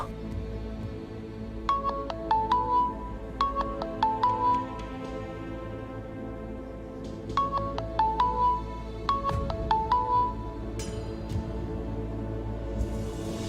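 A mobile phone rings in repeated bursts of a bright electronic melody, several rings separated by short pauses, clear and fairly close with a low background hum beneath.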